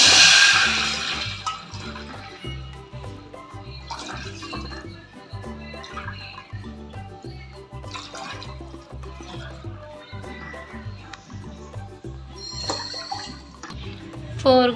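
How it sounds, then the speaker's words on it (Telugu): Water is poured into a cooking pot holding ghee-fried cashews and dry fruits, four glasses in all. It is a steady splashing and gushing under rhythmic background music. "4 గ్లాస్ వాటర్ వేసింది"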